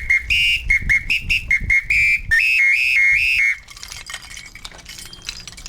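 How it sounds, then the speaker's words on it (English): A Brazilian samba whistle trills in rapid, choppy blasts that step between two pitches, loud and near, for a few seconds before cutting off and leaving faint rustling and clinks. "Another one from Brazil is called the samba whistle."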